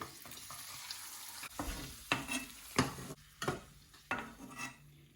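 Raisins (kismis) fried in oil in a pan after cashews while cooking Kerala biriyani, with close stirring scrapes and bursts of sizzling that swell and fade in several strokes.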